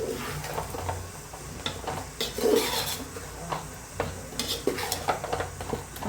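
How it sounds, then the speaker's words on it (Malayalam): Fried chicken being stirred into biryani masala in a pot: repeated scraping and clanking of a spoon against the metal pot with a soft sizzle underneath, close and irregular, no talking. "നല്ലോണം ഒന്ന് മിക്സ് ചെയ്യുന്നുണ്ട് കേട്ടോ."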